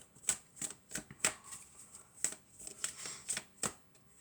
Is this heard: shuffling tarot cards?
yes